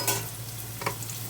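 Onions frying in a kadai give a steady, close sizzle with a brief stir or scrape near the start and another shortly before the end. Nobody speaks.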